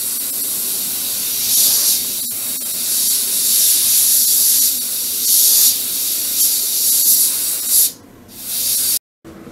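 Steady high hissing airbrush spray of paint onto a model, loud and continuous with slight surges, broken by a brief pause before it cuts out.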